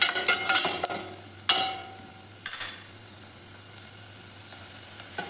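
Onions frying in hot oil for ridge gourd chutney, a steady, quiet sizzle broken by a few sharp clanks and scrapes of a spoon against the pan.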